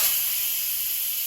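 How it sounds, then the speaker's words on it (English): An Instant Pot quick-releases steam in a loud, steady high hiss close by, with no talking over it. "Now the Instant Pot is done cooking, so let's quick release the steam."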